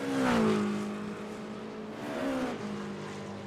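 Race car engine in a racing game at Monza's first chicane, revving high then dropping pitch as it brakes through the turn and accelerating again, loud and steady with a second braking dip near the end, no voices.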